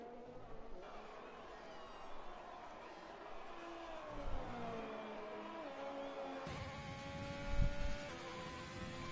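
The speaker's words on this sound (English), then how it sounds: "It looks like he has the RPM glitch where he just over revs the entire time." A race car engine in a racing video game with an RPM glitch, held at over-revving: a continuous high droning whine with shifting pitch, joined by other engines roaring past in a moderate, steady mix.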